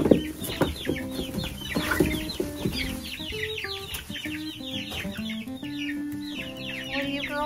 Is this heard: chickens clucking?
yes